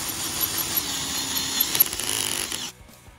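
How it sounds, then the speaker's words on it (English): Power drill turning a tapered reamer, a steady whining motor with light scraping chatter that runs for most of the clip, then stops abruptly into near silence. "Just take your drill and run it in here and go really slow."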